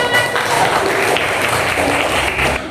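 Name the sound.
classroom applause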